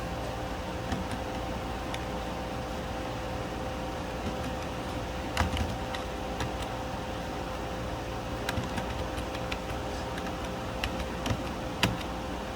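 A student ID number or name is typed into a computer program on a keyboard: scattered, irregular key clicks fairly close, over a steady hum like an air conditioner or fan, with no talking.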